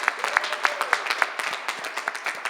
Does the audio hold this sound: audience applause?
yes